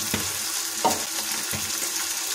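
Ground cumin and chili powder sautéing in a pan for Shol fish kaliya, giving a close, steady frying sizzle with a few soft stirring scrapes.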